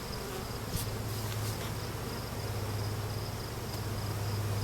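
Bees near hive feed pails chewing at polystyrene, heard mainly as a continuous dense insect buzz with a steady low hum and faint crackling texture, close and unbroken for several seconds.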